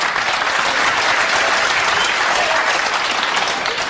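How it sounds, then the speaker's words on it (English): Crowd at a World Cup of Pool finals match applauding a combination shot, steady loud applause filling the whole stretch without a break. "The applause from the combination."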